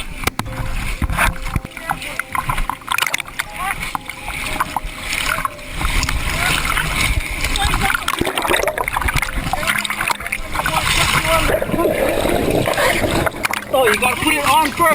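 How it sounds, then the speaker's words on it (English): Water rushes, sloshes and splashes around a camera submerged underwater, a loud muffled churning that continues throughout while people talk over it. "That's a unique sound when you hear water underneath, like when you hear a camera underneath water."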